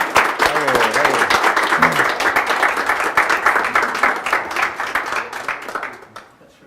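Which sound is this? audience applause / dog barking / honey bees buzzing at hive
audience applause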